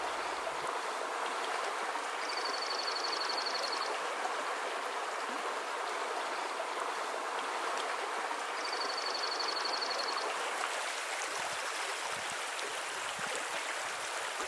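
A small High Sierra creek flowing steadily on a June day, a close continuous rush of water with no voices, constant in level throughout.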